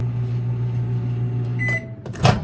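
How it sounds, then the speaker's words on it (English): A microwave oven heats a mug of water: a steady electrical hum runs for about a second and a half, then stops, followed by a short beep and the clunk of the door opening. "Put it in a mug, put some water in the mug, throw it in the microwave."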